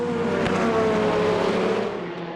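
Ferrari GTE and other endurance race cars at a European Le Mans Series round roar past three wide, a loud sustained engine blare that swells and fades as they overtake.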